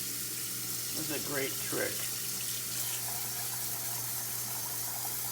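Tap water runs steadily into a kitchen sink while food is rinsed for adobo, a constant moderate gush with someone speaking briefly over it.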